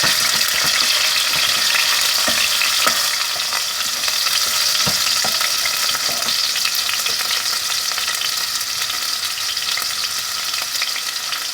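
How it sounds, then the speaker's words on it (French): Strips of turkey escalope hit hot oil in a saucepan and sizzle loudly and steadily the whole way through, a dense, close frying hiss with occasional faint taps beneath it. "une fois que l'huile est chaude, on verse la viande dans la casserole"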